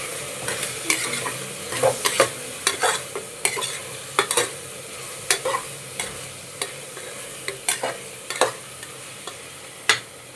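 Spices and soaked rice stirred in a frying pan for bread pulao, with repeated scraping strokes of a spoon against the pan over a light sizzle, close and steady.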